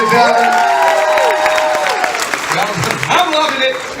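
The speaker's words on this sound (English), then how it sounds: "Give them a nice little round of applause, ladies and gentlemen." Studio audience applause on a love-and-marriage game show, a steady wash of clapping and cheering at full volume through the whole stretch, with voices calling out over it.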